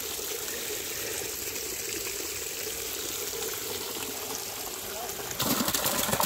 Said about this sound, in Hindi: पानी जा रहा है, देखो पानी माशाल्लाह, देखिए पहाड़ में पहाड़ी पानी है